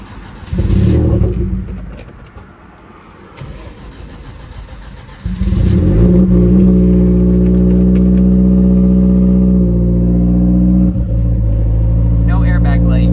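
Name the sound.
Genesis Coupe car being started and engine revving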